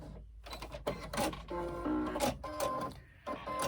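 A sewing machine stitching a crossbody bag, running in short mechanical bursts with pauses between them, close and fairly quiet, with no talking.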